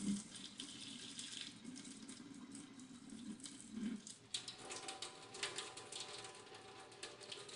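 Water from a pot of cooked noodles is dumped and drained into a kitchen sink, running faintly and continuously with splashes and gurgles, alone without talk.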